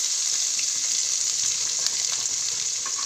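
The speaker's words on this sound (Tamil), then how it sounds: "நல்லா வதக்கி விட்டுக்கோங்க. வெங்காயம் எண்ணெயிலே நல்லா வதங்கிடுச்சு." Onions sautéing in hot oil with spices for a chicken gravy give off a steady, even sizzle, a close hiss that goes on without a break and with no one talking.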